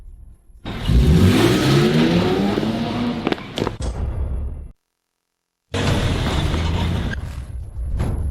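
A car engine revs hard and the car pulls away in a film scene, a loud, rising roar with mechanical clunks. The sound cuts out briefly, then the engine noise returns and carries on.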